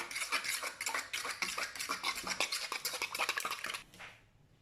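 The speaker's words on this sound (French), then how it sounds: "Je mélange." Quiche lorraine batter with cream being stirred by a utensil in a bowl, a close, steady run of quick clinking and scraping strokes that stops near the end, with no talking.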